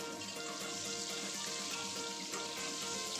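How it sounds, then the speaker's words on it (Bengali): Strips of potato, cut long for a Pangasius fish curry, fry in oil with a steady, dense hiss and crackle that holds at an even level throughout, with no voices. "এই তেলের মধ্যেই আমি আলুগুলোকে দিয়ে দিচ্ছি। আলুগুলোকে খুব ভালোভাবে নাড়াচাড়া করে ফ্রাই করে নেব।"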